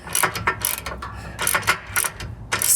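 Ratchet wrench with a 16mm socket tightening an M10 bolt on a Jeep JL Wrangler, a series of quick, close clicking bursts in repeated short strokes with brief pauses between.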